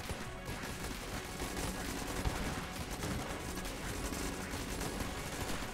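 Vorpal bullets fire in Enter the Gungeon as dense, rapid, continuous gunfire crackling and popping at a steady rate throughout, fairly faint overall and with no voice over it.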